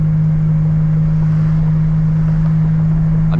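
Steady in-cabin engine drone from a 1986 Buick Grand National cruising at about 45 mph and 2,000 RPM, a constant low hum with road rumble and no talking.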